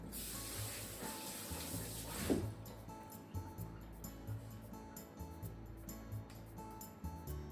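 Tap water runs steadily into a sink for rinsing while making oden hot pot, a quiet, continuous splashing flow with a brief louder surge partway through.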